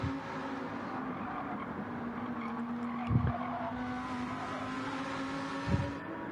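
Race cars battle around the Fuji circuit in a racing video game, their engines a steady, continuous drone broken by two brief louder bursts of revving or tyre noise.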